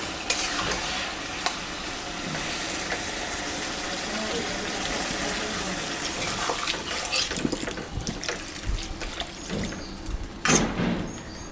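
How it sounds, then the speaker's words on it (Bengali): Water is poured into a simmering pumpkin stem curry in a pan, giving a steady splashing, sizzling wash close by, with stirring clatter and knocks toward the end. "কষানো হয়ে গেছে এখন আমি আর একটু জল দিই"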